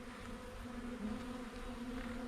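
Honey bees buzzing inside an open beehive during a hive check, a steady, close, droning hum that holds at an even level throughout, with no voices.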